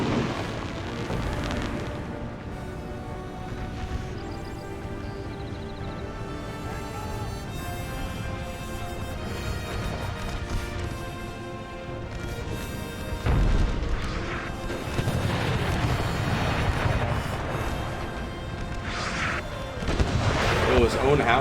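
Howitzer fire in an American Civil War battle in Napoleon Total War, heavy booms and crashes rolling through a busy battlefield din, with louder blasts bunching in the second half and music-like tones beneath.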